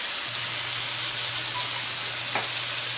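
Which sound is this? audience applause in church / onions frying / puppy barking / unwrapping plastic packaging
onions frying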